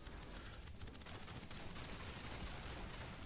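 Constant, faint gunfire from the video game Outcast: A New Beginning forms a dense, unbroken rattle of shots with no clear gaps and no speech.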